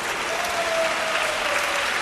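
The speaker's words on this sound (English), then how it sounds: "Applause from the crowd, even in the replay." Crowd applause at the Japan Open table tennis match, a dense, even wash of many hands clapping in a large arena, steady and sustained.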